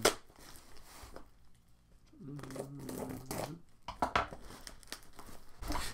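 Cardboard packaging of two boxes taped together, holding a set of smallpipes, crinkles and tears in close, irregular bursts of rustling and ripping, with a brief steady tone partway through.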